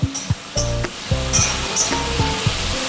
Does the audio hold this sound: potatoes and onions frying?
yes